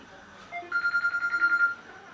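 A telephone rings in a rapid series of repeating bell tones lasting about a second, moderately loud, with faint voices in the background.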